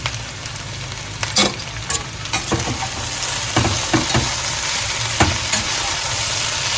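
Sliced okra (bendakaya) fries crisp in a pan of oil, a steady loud sizzle broken by clicks and scrapes of stirring, with no talk.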